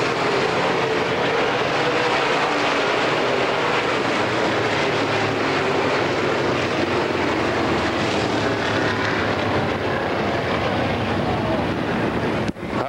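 Race cars, STARS series stock cars at the 1997 Penn National 100, roar past off the fourth turn in a dense, loud, continuous wash of engine noise that ends with a sharp cut.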